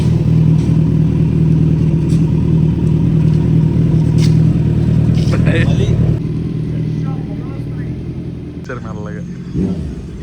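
Motorbike engine revving after a gear shift on a night ride in Vijayawada: a loud, steady mid-pitched drone that eases off partway through, with voices talking nearby toward the end.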